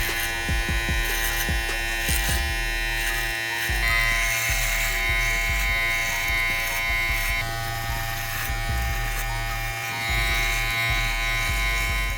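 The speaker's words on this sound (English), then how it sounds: "We're gonna go underneath it with our trimmer" Electric hair trimmer cutting the short hair at the back of the head during a self-cut fade, a loud, close, continuous buzzing drone that wavers slightly as it moves through the hair, with no voices.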